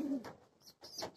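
Pigeons coo softly at a home loft in the evening as rain threatens. A low cooing call opens the clip, followed by quieter rustles and faint chirps, all close by.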